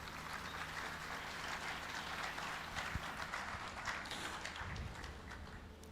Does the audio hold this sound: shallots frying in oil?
no